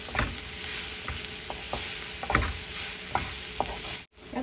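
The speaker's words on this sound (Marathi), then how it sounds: "यात आपण थोडंसं हिंग घालूया मिक्स करून घेऊया" Asafoetida stirred into hot oil in a pan, a steady close sizzle with rhythmic spoon scrapes every half second or so, no talking.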